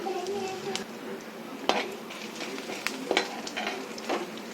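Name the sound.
chana dal, urad dal, peanuts and ginger frying in a pan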